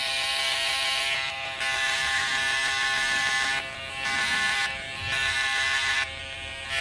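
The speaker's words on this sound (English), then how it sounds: "You'll notice that I'm holding the clippers upside down." Electric hair clippers buzzing steadily while trimming a beard, a close, loud motorized drone that briefly dips several times as the blades move against the face, with no speaking.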